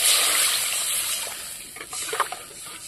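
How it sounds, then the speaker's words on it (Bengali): Water poured into a pan of fried spices (Kashmiri chili powder, black pepper), a wet sloshing sizzle with short splashy bursts near the end, close and fairly loud. "দেবো একটু জল"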